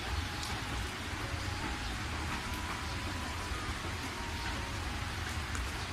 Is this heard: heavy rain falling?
yes